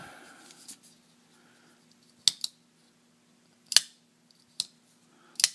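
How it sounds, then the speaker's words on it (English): A Benchmade 940 folding knife slicing material in a cut test after stropping: four or five sharp, crisp snips spaced a second or so apart, close and isolated against near silence. "meet you back here for a cut test"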